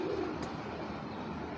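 High flyer Giribaz pigeons coo softly and steadily, a low, murmuring burble close by with faint background hiss and no talk.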